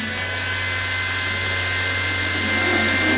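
A heat gun blows hot air onto the tip of a car ball joint, a steady, loud, close whooshing hiss that holds without a break.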